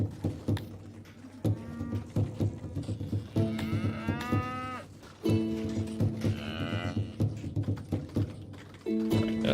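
Auroch cattle in the video game Songs of Syx let out a series of drawn-out moos, several overlapping calls one after another over a soft clicking game background, close and clear.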